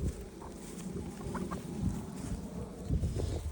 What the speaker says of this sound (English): there's few things I enjoy watching more than chickens pottering along their little waddles